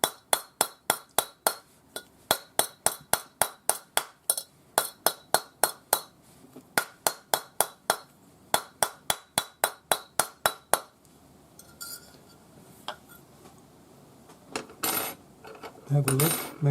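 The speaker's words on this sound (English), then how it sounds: "So round this up on your bracelet mandrel with your rawhide hammer." A rawhide hammer shapes a metal bracelet on a bracelet mandrel, striking in a fast, even run of sharp ringing taps for about ten seconds, followed by scattered softer clinks and handling noises.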